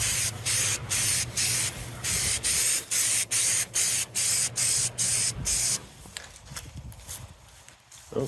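Aerosol paint sprayed as a light coat onto an M1 steel helmet, a series of about fourteen short, even, close hissing bursts in a regular rhythm, then quieter handling noise.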